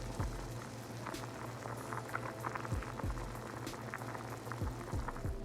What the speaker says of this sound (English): I let them boil for like 2 hours